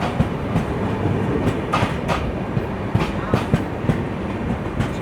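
Steady rumble of the 17642 Narkhed–Kacheguda Intercity Express in motion, heard from onboard, with a continuous broadband roar and faint rhythmic clicks from the wheels over rail joints.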